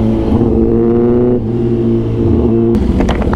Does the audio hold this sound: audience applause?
no